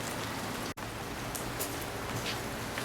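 Steady rain pours down outside, a dense even hiss of drops on surfaces with a brief sharp tap partway through, with no one talking.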